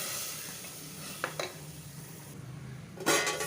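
Ground onions and tomatoes being stirred in a cooking pot, with soft scraping and a few light clinks of a utensil against the metal, quiet and close, ending in a brief louder knock.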